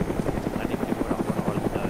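A Chinook helicopter in the video game DayZ Epoch thumps with fast, regular rotor beats, loud and close, over a low engine drone.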